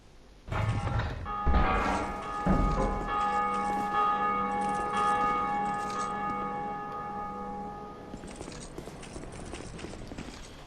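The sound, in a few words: bell being rung, from video game Dark Souls 2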